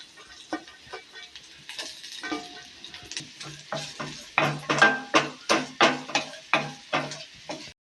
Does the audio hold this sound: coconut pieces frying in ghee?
yes